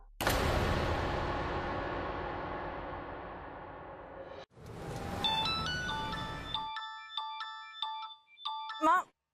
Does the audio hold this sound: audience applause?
no